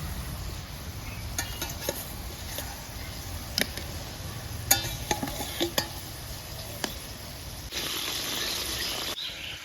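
Fried eggplant goes into a pan with sugar and spices and sizzles steadily, with repeated clicks and scrapes of a spatula stirring it. Near the end a louder hiss swells before stopping abruptly.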